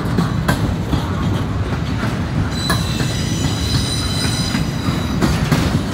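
A long CSX freight train of gondola cars rumbles steadily past a crossing while switching tracks, with rattling wheels, faint clicks and a high, drawn-out wheel squeal over the continuous roar.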